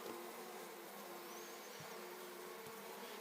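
Honey bees buzz around an open beehive during a hive check, a dense, continuous drone that stays faint and even throughout with no voices.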